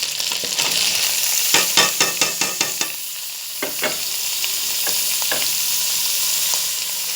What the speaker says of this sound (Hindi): ये सब चीज़ों को हम अंदर इसके डाल देंगे और फिर इसकी अच्छी तरह से भुनाई करेंगे